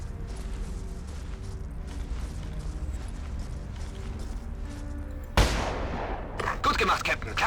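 Low mechanical rumble with a faint hum, then one sudden loud gunshot followed by a roaring blast and crackling bursts, in the video game Ghost Recon Advanced Warfighter 2.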